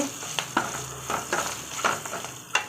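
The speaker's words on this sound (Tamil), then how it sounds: "கொஞ்சம் நல்லா வதக்கிக்கலாம்" Food sizzling in a pan while a utensil stirs it, with soft scraping strokes every half second or so over a steady frying hiss.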